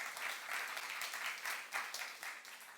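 A church youth-service congregation applauds warmly, with dense, continuous clapping from many hands that holds steady for about three seconds at moderate loudness.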